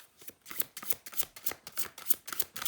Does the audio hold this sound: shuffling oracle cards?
yes